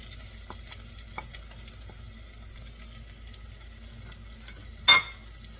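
Tomatoes being stirred in a frying pan for a low-carb Mediterranean dish, with soft scraping and light sizzling at low level, scattered faint clinks, and one brief louder scrape near the end.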